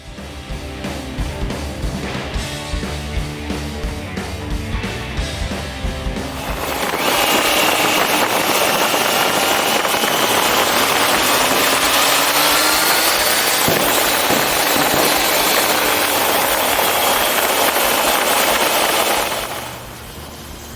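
A Triumph Trident 660 triple-cylinder motorcycle revs up and accelerates hard, a loud continuous roar with wind rush after a quieter idling burble at the start, then it drops away near the end.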